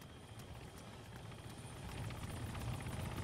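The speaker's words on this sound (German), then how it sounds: "Helikopter incoming. Yep, das ist eine Hellcat." A Hellcat helicopter in Arma 3 approaches with a low, rhythmic rotor thump and engine drone that grows gradually louder, faint and alone with no talking.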